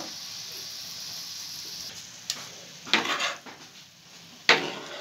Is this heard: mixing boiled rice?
yes